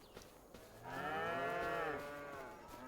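Several cows moo in Farming Simulator 25, a long harmonic low from about one to two seconds that fades out, with no talk over it.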